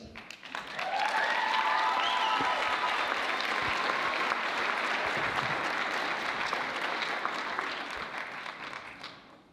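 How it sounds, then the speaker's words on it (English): An audience applauds loudly and steadily at a pageant contest, clapping filling the space for several seconds before tapering off, with a few faint whoops early on. "Please give her a round of applause."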